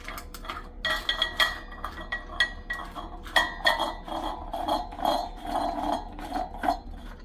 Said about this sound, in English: We'll put this lid on.